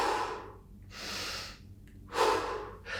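Deliberate core-engaged breathing: three slow, audible breaths close to the microphone, airy inhales and exhales of about a second each, with no talking.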